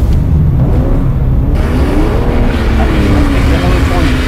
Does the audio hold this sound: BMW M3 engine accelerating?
yes